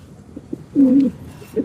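A pigeon at a pigeon market gives a low, throaty coo, a short rolling call followed by a briefer second coo, close by, with faint rustling between.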